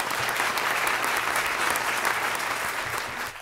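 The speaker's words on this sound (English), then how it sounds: "Let's give them another round of applause" An audience at an anniversary celebration gives a warm round of applause, a steady, even wash of many hands clapping that fades slightly at the end.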